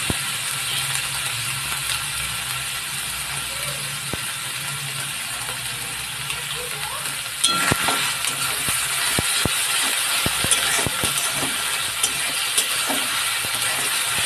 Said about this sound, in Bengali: খুব বেশি ভাজবো না নাড়াচাড়া করে নিয়ে